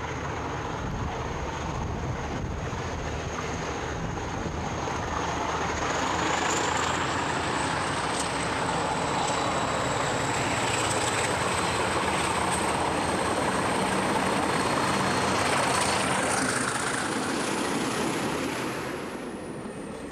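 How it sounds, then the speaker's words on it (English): A Portuguese CP Class 1800 diesel locomotive, with a directly driven radiator fan, drones steadily. The heavy engine roar and a high whining tone swell slightly louder midway, then ease back toward the end, with no voices. "the 1800s sound very similar to, but not quite identical to, a Class 50"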